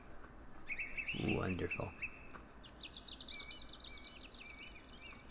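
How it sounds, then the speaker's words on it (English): Songbirds chirp and tweet in the ambient soundscape of the Farming Simulator 15 game, with a run of thin high calls repeating steadily at moderate level behind a brief spoken word and a short louder burst. "Darn chirpy birds."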